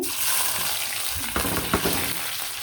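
Chickpeas fry in hot oil left over from frying onion fritters, potato chops and eggplant slices, with a bright continuous sizzle and a few louder stirring knocks and splatters, close and without speech.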